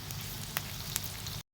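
Squid balls fry in hot oil with garlic in a pan, giving a loud, steady sizzle with a couple of small pops before it cuts off abruptly.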